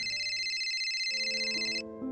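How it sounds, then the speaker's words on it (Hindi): A phone ringtone for an incoming call in a Hindi audio drama, a steady electronic ring that repeats evenly for almost two seconds and then cuts off. No one speaks over it. "उसके फोन पर एक बार फिर से निधि का कॉल आ गया।"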